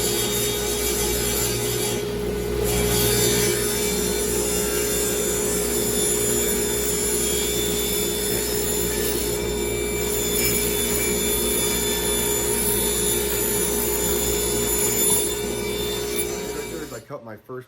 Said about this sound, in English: let's hit the dust collector and let's get cutting